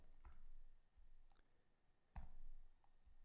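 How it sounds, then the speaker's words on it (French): Computer keyboard typing comes as sparse, distinct key clicks, a few taps spaced irregularly and fairly close, in a quiet room with no talking. "on va réécrire ce qu'on a écrit avec le clavier d'ordinateur"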